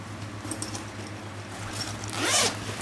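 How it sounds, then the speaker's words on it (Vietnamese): A zipper on a large travel bag with two clasps is opened, making a steady close rasping pull that builds to a louder burst near the end, over a faint constant hum. "khóa Nhật đây mở ờ"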